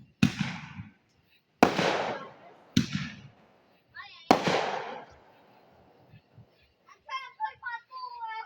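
Fourth of July fireworks going off at home in Tennessee: four sharp, loud bangs spaced a second or so apart, each trailing into crackle, followed by children's voices chattering.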